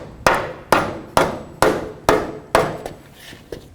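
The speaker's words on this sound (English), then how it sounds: "Now I'm going to give this a couple loving bonks with a rubber mallet." A rubber mallet strikes a front lower control arm on a 2007-12 Dodge Caliber to seat it into the subframe. Six loud, evenly spaced close thumps land about half a second apart, and a faint final tap follows.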